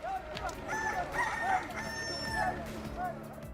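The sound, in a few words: rooster crowing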